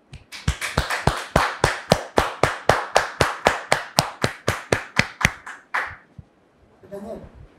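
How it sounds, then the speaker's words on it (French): An audience claps in unison at an evening gathering, producing about two dozen sharp, evenly spaced claps in a steady rhythm. The claps stop abruptly, and a brief voice follows in the quiet. "le père de notre sœur, Daniel, sous vos applaudissements."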